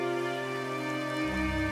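Steady rain at night falls in a dark hilly outdoor spot, a dense continuous wash with no voices, holding even throughout.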